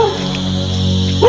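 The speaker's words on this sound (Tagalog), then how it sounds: "May aso." A dog barks and yips in short bursts at a roadside near a petrol station in Puerto Princesa, Palawan, fairly close and over a steady low engine hum.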